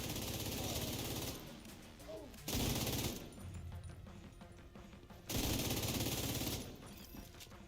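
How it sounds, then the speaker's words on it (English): Bursts of rapid gunfire from The Division 2, loud stretches of automatic fire alternating with quieter gaps, no talking. "How'd that dude outrun my gunfire?"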